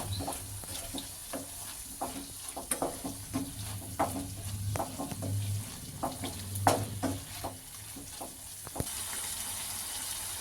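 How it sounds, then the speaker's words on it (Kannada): Chicken roll filling being stirred and fried in oil in a pan, with a steady sizzle under repeated scraping strokes of a spatula at an irregular pace, close and moderately loud. "ಈಗ ಇದನ್ನೆಲ್ಲ ಮಿಕ್ಸ್ ಮಾಡ್ಕೊಳ್ಳೋಣ ಇದು ಆಯಿಲಲ್ಲೇ ಚೆನ್ನಾಗಿ ಕುಕ್ ಆಗಬೇಕು"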